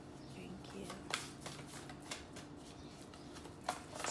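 Cards riffle and snap in quick bursts, with a couple of sharper slaps standing out, close and fairly quiet.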